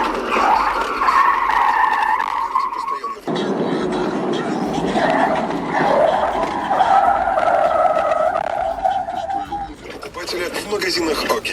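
A car's tires squeal loudly as it skids and loses control on a curve, in two long sustained screeches with a brief break between them, followed by rougher road noise.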